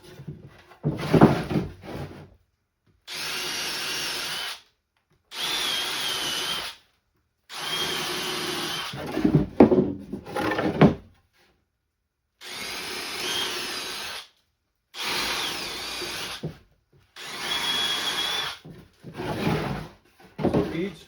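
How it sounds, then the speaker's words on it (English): Power drill boring pilot holes into wooden beehive boxes, several separate bursts of steady whirring drilling with pauses between, close and loud, with a person talking in between the bursts. "what I'm going to do now, you won't be able to see, I'm going to put here these pilot holes"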